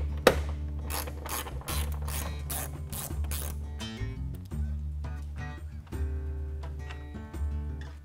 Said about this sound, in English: there's another screw we need to back out